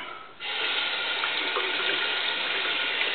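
Tap water runs steadily into a sink for a shave rinse, starting abruptly after a brief quiet moment and continuing as an even, close hiss.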